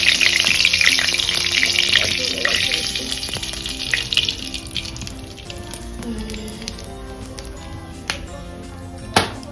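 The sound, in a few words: hilsa fish and nigella seeds frying in hot oil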